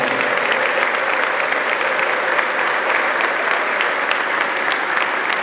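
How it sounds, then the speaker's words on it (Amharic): A church congregation at a sermon applauds and ululates together, a dense and loud wash of clapping and high trilling cries that holds steadily throughout without pause. "ለእግዚአብሔር ቃል እልልታና ጭብጨባ እናቀርባለን"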